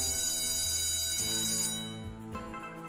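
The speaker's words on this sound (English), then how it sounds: "I hope we all like bell sounds, because it's going to do it for 15 more spins." A slot machine rings out bright, sustained electronic bell tones during a free spins bonus round, loud and continuous with a shift in pitch partway through.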